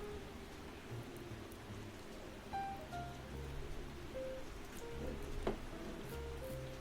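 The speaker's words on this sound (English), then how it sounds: "this particular sound is actually playing some rain noises at the same time" Soft rain sounds mixed into a white-noise ambience track play at low volume, a steady diffuse hiss with faint scattered tones and low hum, no voices.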